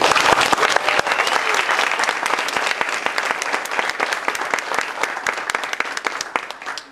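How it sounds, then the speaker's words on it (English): An audience claps loudly and steadily at a school Flag Day play, dense applause filling the whole stretch and tapering slightly at the end. "So a huge round of applause."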